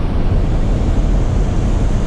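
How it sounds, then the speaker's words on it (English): Steady, loud ocean surf rolls continuously along the coast at the beach, a broad wash of breaking waves mixed with wind rumble on the microphone, with no voices. "See the waves breaking way out."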